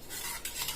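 A spoon briefly stirring sugar and salt into warm yogurt chutney in a bowl, a soft scraping swish lasting under a second.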